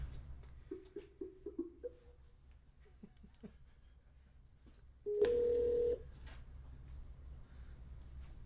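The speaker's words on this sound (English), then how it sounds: "Let's see if we can get him on the phone." Telephone keypad tones beep in a quick run of short dialing bursts, then after a quiet stretch a steady ringback tone sounds for about a second, all at moderate volume over a low background hum.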